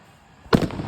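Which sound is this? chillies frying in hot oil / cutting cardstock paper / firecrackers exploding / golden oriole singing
firecrackers exploding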